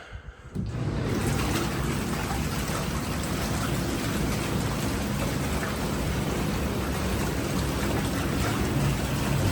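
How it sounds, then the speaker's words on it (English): Whirlpool jacuzzi tub jets at a Westin resort in Maui running on full power, a steady loud rushing and churning of water that starts abruptly after a brief quiet moment and continues unbroken, with no talking. "there's the jacuzzi tub in action of this Whirlpool Jacuzzi tub"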